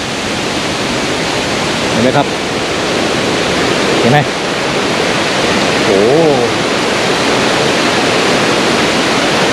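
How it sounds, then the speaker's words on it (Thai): Yung Thong waterfall in Na Yung–Nam Som National Park, Udon Thani, swollen in the rainy season, pours with a loud, dense, unbroken roar heard up close, while a man briefly exclaims over it. "ความแรงของน้ำตกนะครับรุนแรงมาก"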